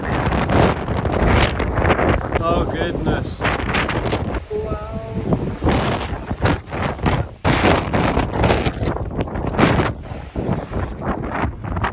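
Strong gusting night wind at an off-grid homestead buffets the microphone in loud, rushing roars, with a person briefly exclaiming under the blustery noise.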